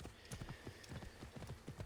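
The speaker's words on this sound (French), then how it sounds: "Oh, le cheval." A horse gallops in Assassin's Creed Origins, its hooves drumming in a quick, steady clip-clop rhythm, close and clear, with no talking.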